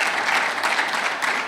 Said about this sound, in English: I'm sure you are not applauding loud enough.